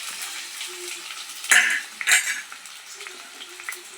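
Thinly sliced onion goes into hot oil in a pan, with a soft steady sizzle and two sharper clatters of a spoon scraping and stirring against the metal.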